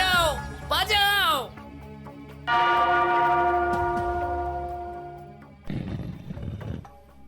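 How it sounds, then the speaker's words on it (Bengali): A bell rings out loudly in a cartoon, its sustained metallic tone swelling and slowly fading over several seconds, with cartoon voices speaking before it and a scuffling noise at the end. "ওই ঘন্টাটা বাজাও, বাজাও"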